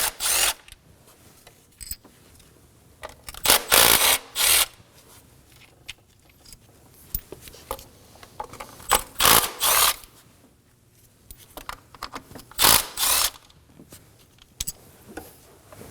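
A 10mm socket ratchet loosening ignition coil bolts on a 2016-2020 Kia Sorento 2.4L four-cylinder engine, heard as several bursts of quick clicking ratcheting separated by pauses and faint handling noise, close up and with no talking.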